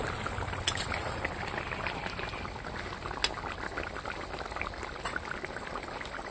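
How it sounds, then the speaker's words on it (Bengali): Koi fish curry boiling in a pan, a soft continuous bubbling and popping with occasional louder plops, close and quiet, no voices. "দেখুন টকবক করে ফুটছে"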